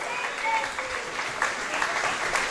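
An audience at a charity benefit night in a disco claps steadily, a sustained wash of applause with scattered louder claps and crowd murmur underneath.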